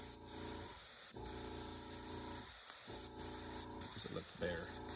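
An airbrush sprays paint onto a Corvette engine, a steady close hiss broken by short pauses where the trigger is released, with faint talk underneath.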